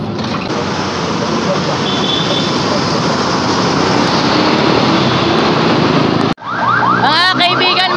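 Interior of an LRT light rail train in motion, a loud steady rumble and roar of wheels on track filling the whole ride, briefly cutting out near the end before resuming with squealing, chirping wheel tones.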